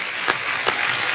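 Brief burst of studio audience applause on a comedy talk show set, steady dense clapping throughout with no voices.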